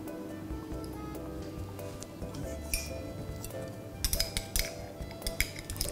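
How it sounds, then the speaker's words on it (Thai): A spoon stirs coffee into hot milk for a cappuccino mousse, its metal clinking against the cup in scattered light taps that get denser toward the end. A steady low background hum sits underneath. "อันนี้เราก็คนจนกาแฟละลายนะคะ"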